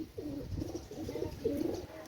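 A pair of red-eyed golden pigeons give soft, repeated low coos in a steady rhythm, close but faint, with no talking.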